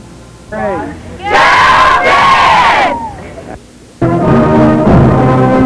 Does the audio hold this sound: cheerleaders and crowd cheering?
yes